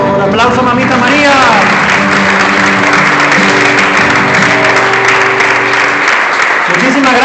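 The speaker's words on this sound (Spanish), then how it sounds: "Aplauso" Applause from a church congregation at a Spanish-language worship gathering, a steady loud wash of clapping and crowd noise lasting several seconds, with voices and singing tones threaded underneath.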